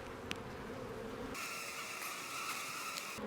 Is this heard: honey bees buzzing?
yes